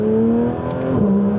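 Porsche GT3 engine heard from inside, holding a loud steady tonal drone that shifts pitch downward around a gear change, then settles again, close and continuous without talk.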